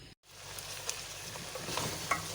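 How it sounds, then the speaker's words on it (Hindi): Mutton frying in oil in a pot on a stove as its water cooks off, a steady dense sizzle with faint crackles, briefly cut near the start and then continuous. "हिन जो पाणी सुकी वियो आहे ऐं गोश्त भुॼे थो"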